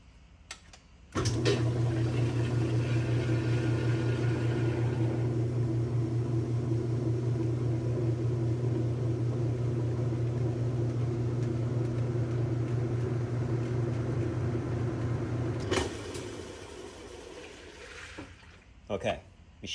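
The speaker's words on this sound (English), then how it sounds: "Okay, machine spun just fine." A Whirlpool washing machine spins for about fourteen seconds, a steady low hum and rumble starting and stopping abruptly, close and moderately loud, with faint clicks around it and no talking over the spin.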